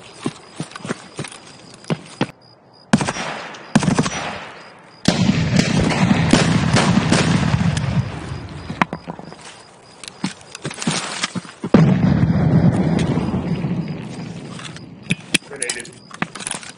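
Gunfire and a grenade blast in the shooter Escape from Tarkov, with sharp close shots cracking in rapid bursts, then a loud sustained explosive rumble swelling and fading, and voices speaking over parts of it.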